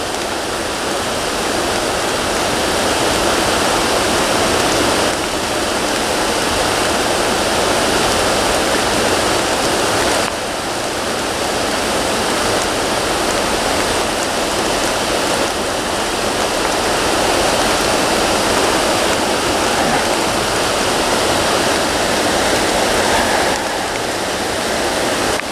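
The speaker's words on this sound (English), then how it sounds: "the water goes back to flowing in the same direction" Creek water flows steadily into a river, producing a loud, continuous broadband rush with no pauses, heard close up and alone.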